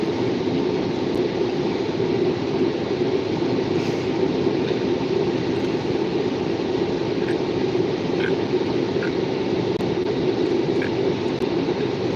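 CN and B&P freight trains passing through Butler, Pennsylvania, a continuous broad rumble and rail roar held steady throughout, with faint squeals and clanks over it and no voices.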